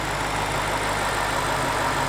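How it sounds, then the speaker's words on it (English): A 2008 BMW 550i V8 engine idles rough and low, sagging toward 500 to 600 RPM as it bogs down, a steady close drone with no voices. "when it bogs down the second time, it gets down to about, as crazy as it sounds, 500 to 600 RPM"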